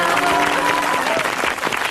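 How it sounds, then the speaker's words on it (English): A studio audience applauds at a wedding ceremony on the TV show Beauty and the Geek Australia. The clapping is dense and continuous, with faint crowd voices mixed in. "how about another big round of applause for our happy couples?"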